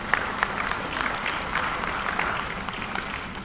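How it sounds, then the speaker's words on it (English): Symposium audience at the Sarawak English Language Symposium giving a round of applause, a continuous, moderately loud patter of many hands clapping throughout, with some voices mixed in. "Let's give them a round of applause."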